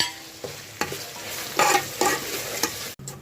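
Tomatoes and onions sauté in a pan for chicken biryani, a steady sizzle broken by repeated scraping stirs of a spoon against the pan, close and lively.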